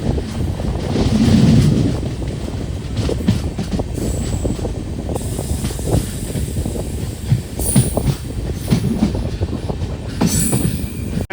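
The Venkatadri superfast express train with LHB coaches rumbles steadily past close by at a crossing, wheels clattering and squealing on the rails, loud and continuous with no voices.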